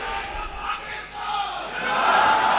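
A large political rally crowd at a ceremony in Islamabad shouts and chants together, a dense, sustained roar of many voices that swells louder toward the end.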